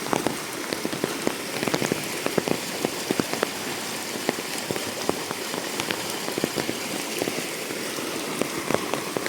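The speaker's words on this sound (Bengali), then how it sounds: "আর বৃষ্টির শব্দটা দেখেন।" Heavy rain pours steadily near a hillside work site, a dense continuous hiss with sharp drops and patters striking surfaces close by, no voices.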